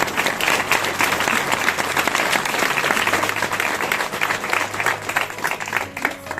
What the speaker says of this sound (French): C'est avec fierté que je vous applaudis de mes deux mains.